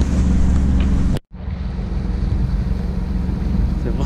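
A sailboat motoring in calm, windless conditions beneath coastal cliffs, its engine a steady low drone mixed with wind buffeting and water rush, loud and close, broken by one brief dropout.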